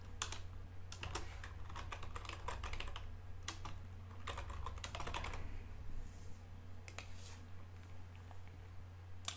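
Name being typed on a computer keyboard, light clicking keystrokes in quick irregular bursts with short pauses, close and fairly quiet over a steady low hum, no one talking.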